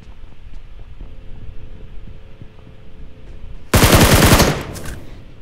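A low steady hum gives way to a sudden loud burst of rapid gunfire in PUBG Mobile lasting under a second, followed by fainter crackling shots.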